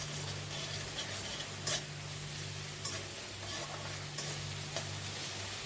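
Spices sizzle softly in a frying pan while being stirred for a raw banana curry, a steady frying hiss broken by a few sharp clinks of the utensil against the pan; a brief voice is heard.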